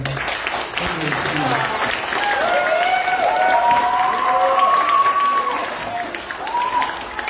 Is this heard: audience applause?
yes